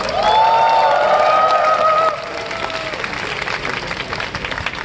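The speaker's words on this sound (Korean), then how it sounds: "이 스태프들을 향해서도 응원의 박수 부탁드리겠습니다." A crowd at a student rally applauding steadily, loud at first and then easing off about halfway, with some voices and shouts mixed into the clapping.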